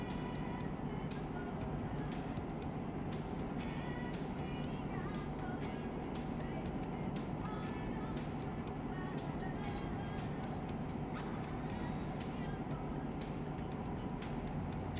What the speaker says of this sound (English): Got engine resonance on today